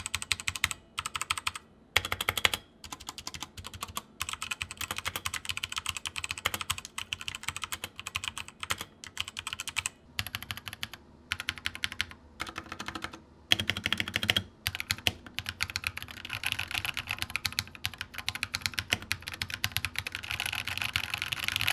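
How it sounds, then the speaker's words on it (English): Modded budget mechanical keyboard clacking steadily and quickly for a long stretch, crisp close keystrokes with brief breaks, no talking. "the audio is not picking up how good this sounds for just being a switch sound"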